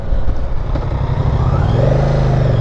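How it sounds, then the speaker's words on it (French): A Moto Guzzi Stelvio motorcycle pulls away close by, its engine rumbling loudly and rising in pitch as it gently accelerates off the line. "Démarrage super tranquille, un dosage millimétrique de la poignée de gaz permet un lancement de la moto sans surprise."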